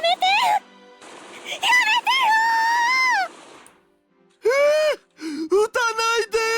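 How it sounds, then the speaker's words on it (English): Kurisu and Daru screaming in the Steins;Gate visual novel, several drawn-out anguished cries and gasps with sharp pauses between them, loud and close. Gunfire is not clearly distinguishable. "I hear Kurisu and Daru screaming as the gunfire continues"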